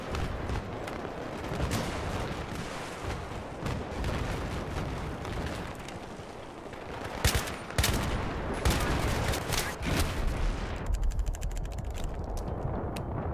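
Battlefield 3 video game gunfire: dense, sustained bursts of automatic fire with scattered single cracks and heavy impacts, loud and near, continuing throughout.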